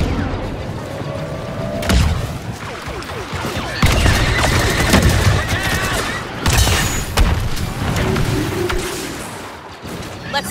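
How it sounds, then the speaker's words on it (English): Grenade explosions and gunfire in the video game Star Wars Battlefront 2, with loud booming blasts and rapid bursts of shooting. The battle noise runs continuously, and a voice is heard in the mix. "Grenade out!"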